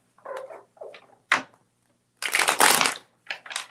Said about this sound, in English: I will shuffle for this.